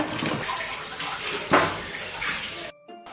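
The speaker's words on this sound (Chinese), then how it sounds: "梨跟金桔先来加点盐搓洗一下" Pears and kumquats being rubbed and washed with salt in a bowl of water, soft sloshing and splashing with a brief louder splash midway, fairly quiet, ending in near silence.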